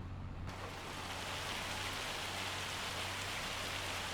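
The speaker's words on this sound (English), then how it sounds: "Bucketing down." Heavy rain pours down steadily in the Farming Simulator 25 game, a dense, even hiss that sets in abruptly after a brief quiet moment and holds loud and constant with a low hum beneath.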